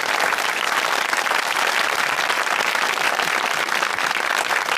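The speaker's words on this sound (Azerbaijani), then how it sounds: "aktyorlarımızı, aktrisalarımızı bir gürültü alqışlayaq" Theatre audience at an Azerbaijani comedy show loudly applauding the actors and actresses, a dense, continuous wall of clapping from a large crowd, sustained evenly from start to finish.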